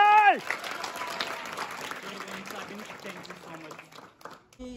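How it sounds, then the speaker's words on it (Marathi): A group of people claps together at a street play workshop held at a college, a steady ripple of applause that fades toward the end, opening with a brief tonal sound and with voices mixed in. "एकदा टाळ्या वाजवायच्यासाठी"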